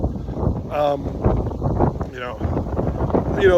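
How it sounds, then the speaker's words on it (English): Strong outdoor wind buffets the microphone in loud, gusty rumbles while someone talks over it continuously. "the wind is absolutely terrible today"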